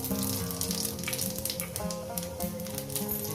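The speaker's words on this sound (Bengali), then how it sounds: "তেলটা আমার গরম হয়ে গেছে দিয়ে দেবো এখানে পাঁচ ফোড়ন" Panch phoron spices sizzling in hot oil in a hot kadai, a steady bright crackle running continuously and close, with tonal background music layered underneath.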